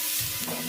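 Potatoes being stirred in hot oil in a pan, a steady close sizzle of frying with soft scraping and shuffling of the stirring running continuously underneath.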